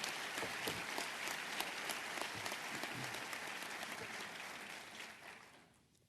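A room of attendees at a state budget presentation breaks into sustained applause, a dense patter of many hands that gradually thins and fades out at the end.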